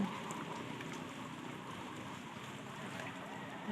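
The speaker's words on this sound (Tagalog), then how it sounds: "Umuulan ngayon biglang lumakas yung ulan." Steady, dense rain hiss fills the whole stretch at an even level, a constant wash of drops with no talking.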